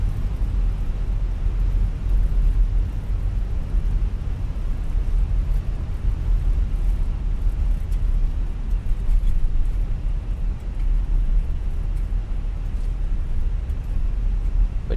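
Airbus A320 landing rollout at Hamburg in a flight simulator, with reverse thrust and braking: a steady loud low rumble and roar that holds evenly throughout, with no voices.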